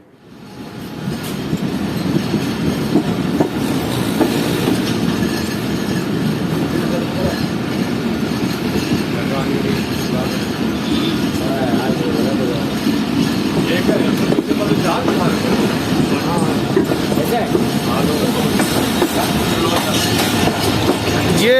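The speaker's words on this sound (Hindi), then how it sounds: "तो चलें अब ट्रेन को कराची से निकलता हुआ देखते हैं।" A passenger train, the Khyber service, pulls out of Karachi station with a steady, loud rumble and rolling wheel clatter that builds quickly and holds for the whole stretch. Faint voices sit underneath.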